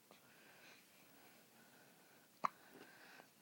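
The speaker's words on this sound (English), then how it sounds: "she gets so mad at those hiccups" A baby gives one sharp, quiet hiccup, with soft breathing and faint fussing noises before and after it.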